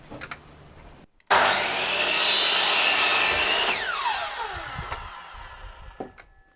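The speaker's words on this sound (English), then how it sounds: "so let's cut this a millimetre or two big" A hand saw cuts through a wooden balustrade piece during a veranda restoration. Close, loud back-and-forth rasping strokes run for several seconds after a brief pause, then slow and stop, with a few light knocks at the end.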